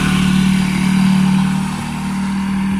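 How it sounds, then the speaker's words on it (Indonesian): A motorcycle engine drones loudly and close by on a road in Indonesia, a steady mid-pitched hum that swells and then eases off slightly as the bike goes past, with no talking over it. "Motor apaan tuh?"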